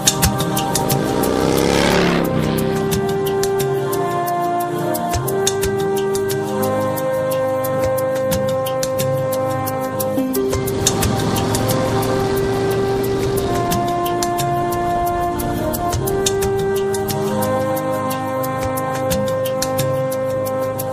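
A KTM off-road motorcycle being test-ridden, its engine droning steadily with repeated rises and falls in pitch as it revs and shifts, loud and close throughout with no talk.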